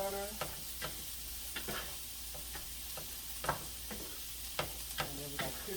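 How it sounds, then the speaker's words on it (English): Shrimp frying in butter in a pan give a soft steady sizzle, broken by occasional clicks and light taps as the pieces are tossed and stirred, heard close and quiet with no talking. "Get all the shrimp tossed into the butter."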